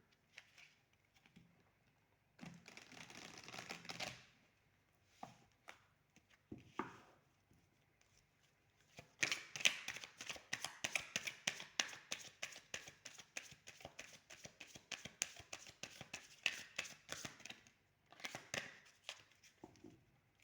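Oracle cards being shuffled and drawn, bursts of quick papery flicks and riffles with a long rapid run in the middle, close but soft, separated by brief quiet gaps.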